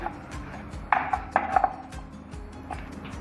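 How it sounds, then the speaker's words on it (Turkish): Several sharp knife chops strike a cutting board while cutting chicken wings, in an irregular cluster, close and crisp, against quiet background noise. "Evet kanatlarımızı hepsini doğradık."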